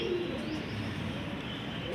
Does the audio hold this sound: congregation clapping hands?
no